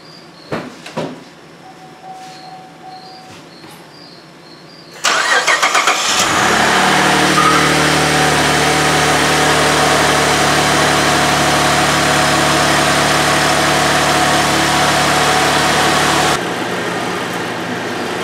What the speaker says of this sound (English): It actually starts up and idles a whole lot better than it used to.